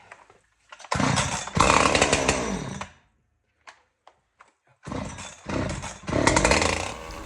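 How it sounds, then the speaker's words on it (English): A Husqvarna 372XP chainsaw that runs briefly and then stalls roars loudly at close range. It bogs and cuts out, sputters a few times during a silent gap, then revs back up in uneven bursts. "as long as the chainsaw is running, I'm pretty happy with that"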